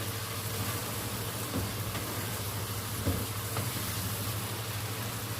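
Five or six finely chopped green chilies sizzling in about a cup of hot oil for a beef white karahi, a steady faint frying hiss with a couple of soft stirring knocks.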